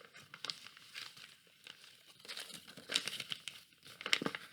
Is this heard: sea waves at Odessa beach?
no